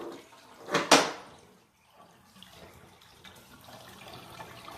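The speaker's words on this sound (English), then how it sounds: "The water is going to come out of our drain." Water draining out of a portable washing machine used on the road: a short loud gushing splash at the start, then a quieter, steady trickling rush.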